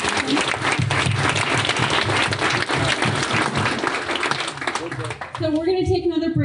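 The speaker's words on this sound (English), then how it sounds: "so I just want to give them one more round of applause" Dense audience applause for the eight startup finalists at a pitch competition, loud and sustained for about five seconds before fading as a voice begins speaking.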